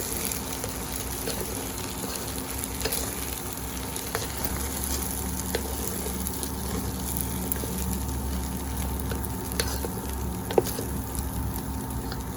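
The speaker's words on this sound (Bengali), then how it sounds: "আচ্ছা, এবার আমি একটু নেড়ে মিশিয়ে জল ঢেলে দেবো।" Vegetable khichuri made with winter vegetables is stirred in a pot, giving a steady, close oil sizzle with faint scraping and no talking.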